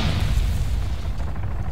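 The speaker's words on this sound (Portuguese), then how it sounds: "Ó, granada aí." A grenade detonates in ArmA 3 with a heavy, low booming rumble that rolls on and slowly fades, loud and without voices.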